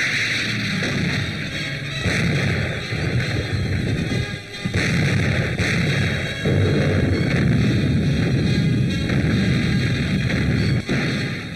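A 5.5-inch artillery gun fires repeatedly at point-blank range while shelling a fort, with loud booming blasts every second or two over a constant rumbling background.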